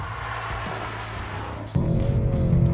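A 2020 Mercedes-AMG C63 Coupe is being driven, with a steady low engine drone that swells into a louder, rising note about halfway through. No one speaks.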